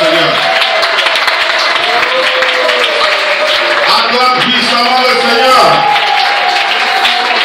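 A church congregation acclaims the Lord with loud, sustained cheering, clapping and voices together, filling the space continuously throughout with a brief swell near the middle.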